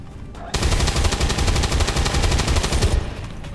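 Rapid automatic gunfire from XCOM 2 rattles in a loud, continuous burst lasting about two and a half seconds, then cuts off abruptly.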